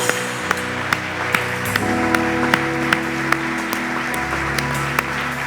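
A church congregation claps in a steady rhythm over sustained music at a Portuguese-language worship service, the sharp beats falling evenly across the passage.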